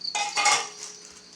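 Biryani rice being tipped into a metal vessel, giving a short clattering rush with a metallic clink and faint ringing, close by, with no talk.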